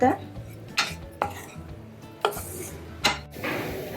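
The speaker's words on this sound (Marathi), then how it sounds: "हे चांगलं भाजून घ्या. हे चांगलं भाजून होत आहे." A metal spoon stirs and scrapes kachori filling roasting in a pan, giving four or five sharp clinks against the metal over a low steady background, close up with no voices.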